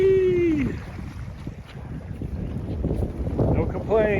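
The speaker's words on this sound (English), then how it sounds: "It's a bit windy, but the sun came out." Wind gusts beside a glacier in Gates of the Arctic, rushing and buffeting close against the microphone for several seconds, with brief bird-like whistles near the start and end.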